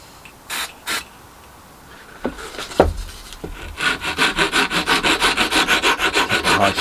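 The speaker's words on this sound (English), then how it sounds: "once it's dried I can just grind it back with a file or sandpaper" Hand file rasping reclaimed timber in a small shed, a few scattered scrapes and knocks giving way to a steady run of rhythmic back-and-forth strokes, close and fairly loud.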